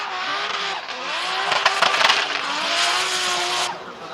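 A Formula Drift car with a 2J engine screams at high revs, bouncing off the rev limiter with rapid crackling stutters and tire squeal, loud and close for a few seconds.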